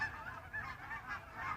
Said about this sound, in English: Boy, a lot of geese. Can you hear him?